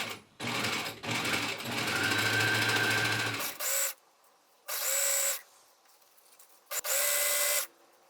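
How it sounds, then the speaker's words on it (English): A sewing machine stitching an inner jacket facing down beside a serged edge, running in three or four loud bursts: a long opening run, then shorter spurts separated by quiet pauses. "I pinned the inner facing to the jacket all the way around and sewed it down right next to that serged edge."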